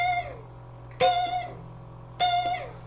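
Blues electric guitar notes stung with quick, narrow vibrato: three sharp picked attacks about a second apart, each bending and wavering briefly before decaying, with no voice.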